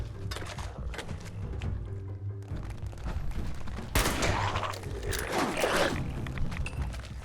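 A gun fires repeatedly in Fallout 76, a series of close, sharp shots with mechanical clatter, intensifying in a louder burst partway through.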